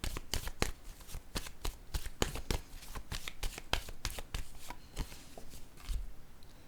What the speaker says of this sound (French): J'ai besoin de piger une autre carte ici,